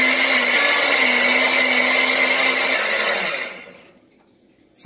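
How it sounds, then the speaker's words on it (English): A blender whirs steadily at high speed, pureeing enchilada sauce for enchiladas suizas, a loud, even motor whine that runs for over three seconds before winding down and cutting out. "And I'm going to blend it up really good."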